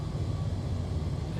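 Boeing 787 Dreamliner with derated engines on its takeoff roll in Microsoft Flight Simulator, a steady low engine roar that holds even and loud for the whole stretch, with faint rumble underneath.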